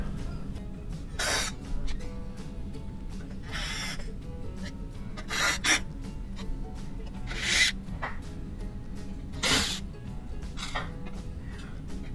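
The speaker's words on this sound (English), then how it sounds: "we're just basically removing all the screws that hold the back panel on" Screws are removed from the back panel of a KitchenAid wall oven, heard as short, close squeaky scraping bursts at irregular intervals against a quiet room.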